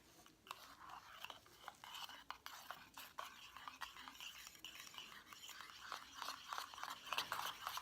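Homemade phytokeratin mascara being stirred and mixed by hand, a steady run of small scraping, clicking strokes of a utensil against a small container, close and fairly quiet, with no voices.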